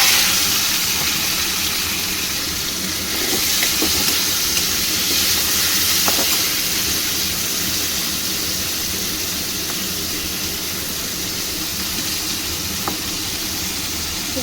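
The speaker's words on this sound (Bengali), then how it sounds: "তেলটা গরম হয়েছে, আমি এই চিংড়ি মাছটা নুন হলুদ লাগিয়ে রেখেছি সেটা ভেজে" Prawns rubbed with salt and turmeric fry in hot oil in a wok, giving a steady, loud sizzling hiss that carries on unbroken, with occasional soft clinks.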